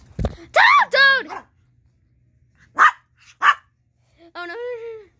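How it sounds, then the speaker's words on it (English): A dog barks in a few short, loud, separate yaps and whines, with people talking in between. "It's a dog."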